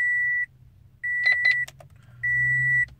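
A Toyota sounding steady electronic beeps after the ignition is switched on during an ECU re-sync, three long tones with a pause between each and faint clicks in the gaps.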